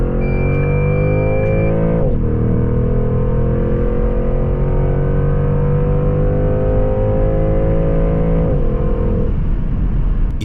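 A Porsche Panamera GTS 4.0 V8 makes a launch start in Gran Turismo Sport, its engine a loud, continuous, rising roar that dips in pitch at two gear shifts.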